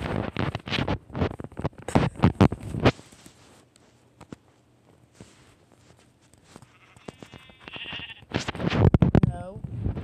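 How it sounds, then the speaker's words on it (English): Sheep bleat several times in the video game Minecraft, short nasal cries heard near and clearly, mixed with blocky footsteps and someone talking over the game sounds. "Ooh, a sheep."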